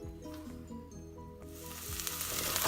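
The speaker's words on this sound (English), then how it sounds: "I'm going to saute the onion" Onion sautés in a pan, a soft sizzle that rises and brightens toward the end, with faint tonal background music underneath.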